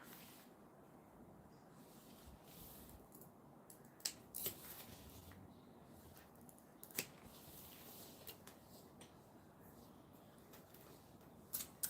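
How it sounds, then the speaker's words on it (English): Scissors cut excess fabric from behind a zipper overlay during sewing, a very quiet, close run of soft snips and crisp clicks at irregular intervals, with faint handling rustle between them and no talking. "cut the excess fabric out from behind my zipper overlay"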